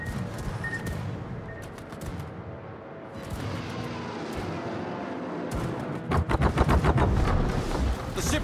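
Dense rapid anti-aircraft gunfire from a Tier 10 ROCN Jinan light cruiser in World of Warships, a steady rattling barrage that swells into louder sharp bursts toward the end, with faint voice fragments mixed in.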